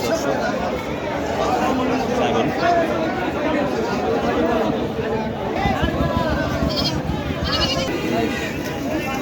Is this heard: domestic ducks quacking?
no